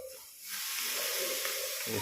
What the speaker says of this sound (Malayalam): എണ്ണ ചൂടായിട്ടുണ്ട് നമുക്ക് കടുകിടാം ആദ്യം കടുകിടും